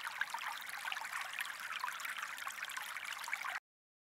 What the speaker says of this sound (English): turn on the water and get your hands nice and wet